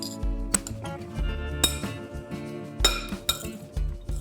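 Onion, tomato and cucumber chutney is stirred in a bowl with a spoon, making bright clinks and knocks in an uneven rhythm over a low scraping sound, with no talk.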